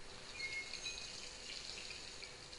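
A sink faucet running in the stealth game Dishonored, a steady soft wash of water pouring at low volume with no voices over it.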